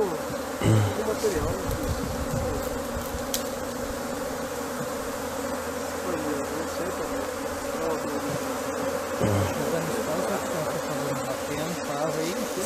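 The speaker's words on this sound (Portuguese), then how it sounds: "Muita abelha, né, pessoal?" A dense swarm of bees buzzes steadily around an open beehive during beekeeping work, a loud continuous drone with occasional thumps and handling noises and faint voices underneath.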